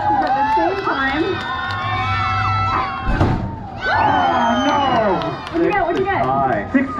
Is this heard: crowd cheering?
yes